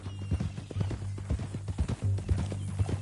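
Horse hooves clip-clop steadily in a PS4 western video game, a run of close, regular thuds layered over a low engine-like drone and a faint musical bed, with no talk.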